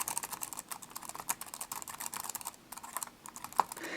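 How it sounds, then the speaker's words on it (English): Close, quiet typing on an Apple wireless aluminium keyboard, with rapid light key clicks in an uneven flurry that pauses briefly midway. "here's my Apple wireless keyboard in comparison"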